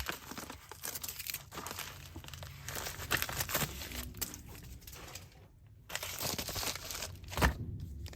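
Paper crinkling and rustling as a Tarzan book is packed into an envelope, a continuous close crumpling and tearing sound with a brief pause near the middle.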